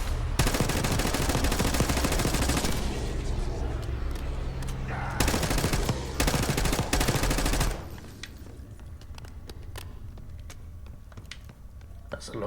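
Automatic gunfire from Call of Duty: Black Ops 6 rattles in long, dense bursts, then stops abruptly and leaves a quieter stretch of sparse clicks and distant shots.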